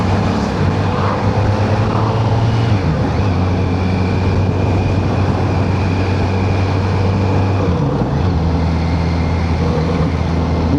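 A 2026 Kawasaki Z900RS four-cylinder motorcycle engine running steadily while riding, a loud, smooth, continuous hum with slight shifts in pitch as the revs change, heard up close with wind noise and no talking.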